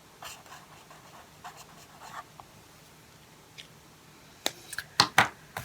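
A water-based dot marker scratches faintly across black and brown paper in soft, scattered strokes, then several sharper, louder dabs and taps arrive close together near the end.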